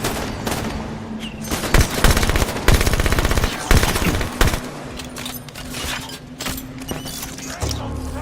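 Rapid automatic gunfire from a Halo 5: Guardians battle rattles in long loud bursts, mixed with sharp single shots and game clatter, close and dense throughout.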